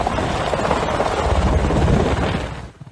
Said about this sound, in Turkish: Van Jandarma Asayiş Kolordu Komutanlığı'na bağlı helikopterle bölgeye